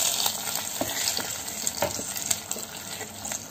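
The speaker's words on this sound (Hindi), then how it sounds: "अब इस तड़के को हम लोग कढ़ी में डाल देंगे और उसे एक बार और उबाल आने देंगे।" Hot tadka with curry leaves hitting simmering kadhi, a dense, close sizzle with crackling pops and stirring clinks throughout, no talking.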